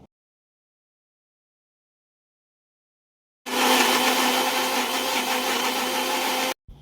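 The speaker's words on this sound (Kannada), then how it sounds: "ಇದನ್ನೆಲ್ಲ ಒಂದು ಮಿಕ್ಸಿ ಜಾರ್ಗೆ ಹಾಕಿ ಸ್ವಲ್ಪ ನೀರನ್ನು ಮಿಕ್ಸ್ ಮಾಡಿ ನೈಸಾಗಿ ಪೇಸ್ಟ್" A mixer grinder blends coconut, garlic, onion and cumin with a little water into a smooth paste. After a few quiet seconds it starts with a loud, steady motor whir and rattle, then cuts off abruptly near the end.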